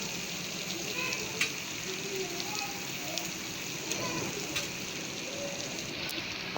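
Thinly sliced tomatoes fry in a pan for chicken Bombay biryani, a steady hissing sizzle with faint crackles and occasional stirring clicks throughout.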